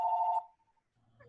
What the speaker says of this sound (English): Sorry about that phone.